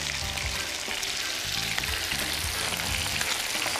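Dried chillies and tomato stir-fried in a wok, a loud, dense sizzle with rhythmic bursts as the ingredients are tossed and scraped, continuous and close.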